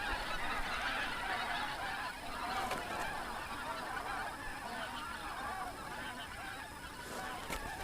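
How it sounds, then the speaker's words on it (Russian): A flock of geese flying overhead in the Komi Republic honks continuously at a distance, many overlapping calls forming a steady noisy chorus. "Налетели гуси"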